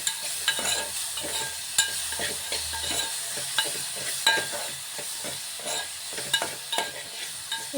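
Tomatoes and curry leaves sizzle steadily in a hot pan for macaroni pasta, with a spoon scraping and stirring through them in irregular strokes, close up and with no talking.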